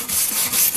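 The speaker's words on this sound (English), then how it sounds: "Start rough with the wire brush, and then we'll just work our way down to the smoother stuff" A wire brush scrubs rust off a metal bandsaw table, making a close, continuous harsh scratching rub with slight rhythmic swells.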